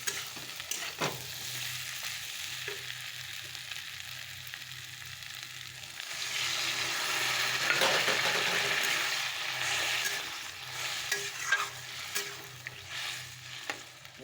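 Spiced food fries in oil in a pan on a home stove, a soft steady sizzle with occasional stirring scrapes, close but fairly quiet, with no talking.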